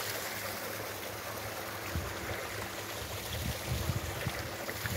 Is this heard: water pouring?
yes